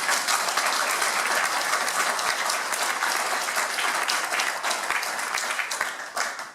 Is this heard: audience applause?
yes